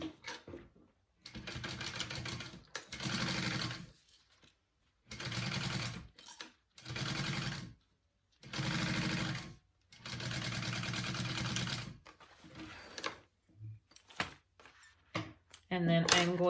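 A sewing machine bastes an accent fabric piece for a bag, running in several short, close bursts of whirring stitching separated by brief pauses, ending with a few clicks and handling sounds.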